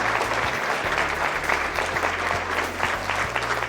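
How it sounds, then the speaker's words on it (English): A fashion show audience in Reno gives a steady round of applause, a dense, even wash of many hands clapping at once that holds at the same loudness throughout. "let's give them one more round of applause"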